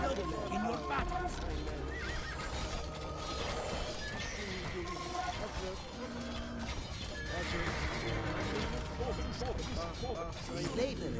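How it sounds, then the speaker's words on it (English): Horse archers in the Age of Empires 2 Definitive Edition Tamerlane campaign give repeated horse whinnies and neighs over a steady clatter of hooves and game battle sounds, with a voice talking underneath. "These horse archers will help you in your battles."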